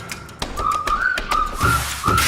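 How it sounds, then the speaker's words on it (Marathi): Melodic human whistling from a song in the film Dhoom, short held tones around a sustained pitch set over sharp rhythmic percussive taps and thumps, moderately loud and close. "तर तुम्ही धूम मधील ही विसल ऐकलीच असेल."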